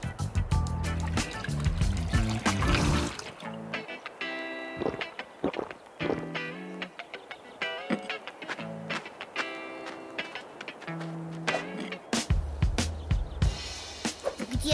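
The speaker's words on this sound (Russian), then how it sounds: "Где же тут кран откручивается?" Water trickles from a drinking fountain in an animated children's cartoon, mixed with busy music and sound effects that stay prominent throughout.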